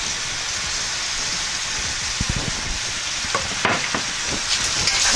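Spaghetti stir-frying in oil with onions, garlic and chives gives a steady, dense sizzle from start to end, broken by a few soft scrapes and stirring knocks near the middle.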